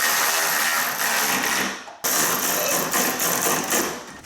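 A power tool drives headlight bolts on a 2018-2020 Ford F150, giving a steady, close, loud whir that runs nearly continuously with a brief break around the middle.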